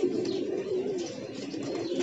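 Pigeons coo in soft, low, rolling calls, close by and steady, with faint rustling in the background.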